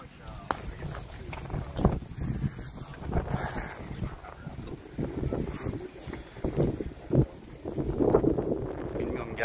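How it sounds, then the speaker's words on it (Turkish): Gusty wind buffets a microphone in low, rumbling bursts, partly masking a person talking throughout. "Rüzgar sesini filtreleyebiliyor artık telefonlar."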